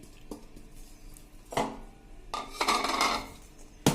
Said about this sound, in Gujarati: આ રીતે એક વાસણમાં આપણે બધી ખાંડ નાખી દેશું